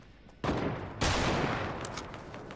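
Gunfire in Fortnite comes in two sudden loud bursts, the second a sustained rattling barrage that fades slowly.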